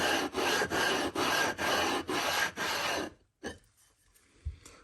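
A sharpening stone being flattened on an iron lapping plate, with about seven loud rhythmic gritty scraping strokes, each stroke a rasping back-and-forth rub, then a short pause and faint scuffs at the end.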